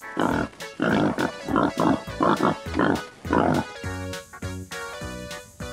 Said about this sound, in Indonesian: Babi hutan